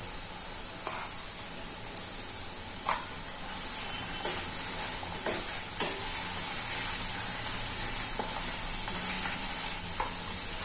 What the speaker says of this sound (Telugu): కొంచెం పసుపు నూనెలోనే వేస్తే మగ్గుతుంది బాగా.